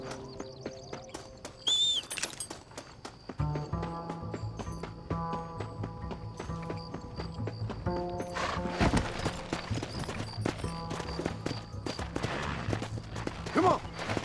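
Horse hooves gallop rhythmically in the video game Red Dead Redemption over a steady musical backdrop, with a brief whinny early on; the hoofbeats grow busier and louder toward the end.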